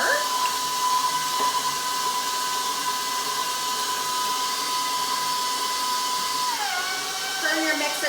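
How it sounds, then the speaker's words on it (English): An electric stand mixer whirs steadily on its low stir setting while flour is slowly added for Easter sugar cookie dough, a constant high motor whine that dips in pitch near the end. "Turn your mixer to stir,"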